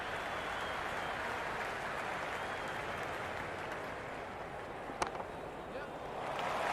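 Steady crowd roar and cheering from a cricket video game stadium during an India versus New Zealand T20 international in Cricket 26, a continuous broad wash of noise with a brief sharp accent midway and swelling slightly at the end.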